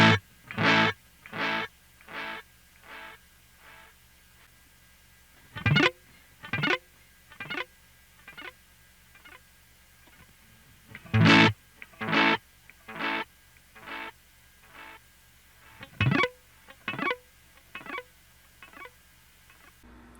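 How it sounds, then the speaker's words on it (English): Donner tape delay pedal emulating a 70s tape machine, sharp plucked notes followed by degrading, warbling repeats that fade out, with a low hum underneath between phrases. "This is the tape delay. It's supposed to sound like a 70s tape machine."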